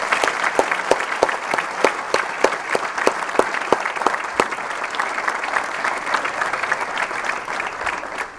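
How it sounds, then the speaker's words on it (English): A commencement audience applauds at a school graduation ceremony, with loud, sustained clapping and distinct individual claps standing out sharply in a dense, even rhythm and a faint crowd murmur beneath. "Big round of applause, everybody."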